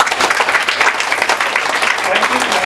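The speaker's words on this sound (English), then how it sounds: "That needs more bigger applause." Audience applause fills a college blood donation camp ceremony held by a pharmacy and engineering college, a dense, steady clapping roar close by that runs unbroken for the whole stretch, with voices mixed in.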